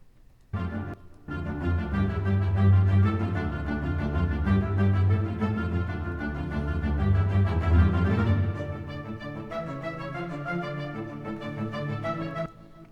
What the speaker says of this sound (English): staccato strings, and really playing like a very simple kind of like ostinato type of chase sequence